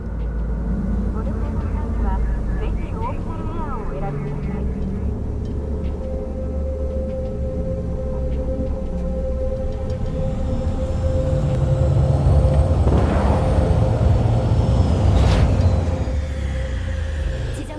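A flying car in the video game Cyberpunk 2077 comes in to land with a steady engine rumble that swells louder toward the end, while voices talk over it.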